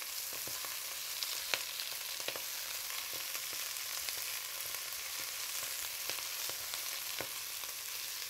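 Swiss chard wilts in a hot pan with a steady, even sizzle and faint crackling pops throughout, close but quiet, with no voices.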